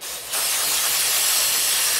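An aerosol spray can hissing into the carburetor of a 1980 Johnson 15 HP outboard motor, one continuous close, loud blast starting after a brief quieter moment.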